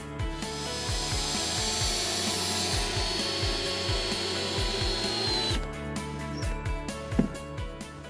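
A power driver screws fixings into a CaberDek P5 chipboard flooring panel, a steady whirring drive broken by rapid rhythmic clicking pulses, then a change in tone near the end as the screw seats, close and alone.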